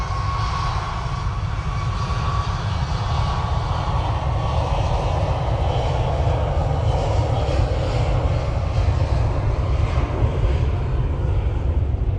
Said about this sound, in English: And there goes that Ryanair, off to Alicante now.